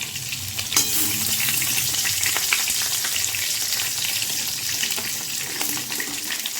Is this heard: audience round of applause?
no